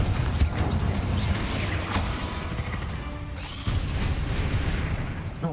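Fiery blasts from the Confringo spell in Hogwarts Legacy burst and crash in a busy fight, a couple of loud booms with rumbling debris and a fresh impact near the end, no talking.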